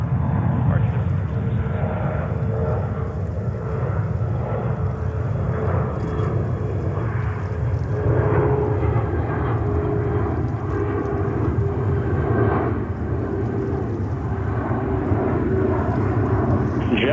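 A large aircraft rumbles with a steady, loud engine roar as it takes off from the runway at JFK Airport in New York. Radio chatter is faintly audible underneath.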